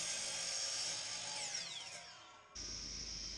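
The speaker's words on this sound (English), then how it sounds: "After cutting it to length with the miter saw, I'll rip it down with the table saw." Miter saw cutting an MDF board, a brief loud whining cut that winds down, then the motor spins freely with a steady high hum.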